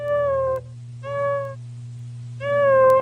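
An electric guitar played to mimic a tabby cat's meow, three drawn-out, bending, vocal-like notes with pauses between them over a steady amplifier hum, loud and close with no talk.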